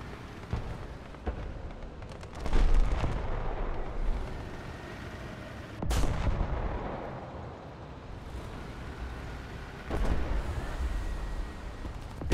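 A KV-2 tank's big cannon in the War Thunder video game fires heavy booming shots, about three loud blasts spaced several seconds apart, each rolling off over a low rumbling battle background.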